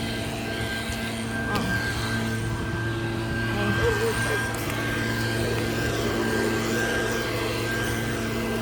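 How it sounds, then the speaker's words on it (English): A steady engine hum drones on continuously beneath a noisy outdoor background, with a constant tone and no clear breaks. "You hear that car running."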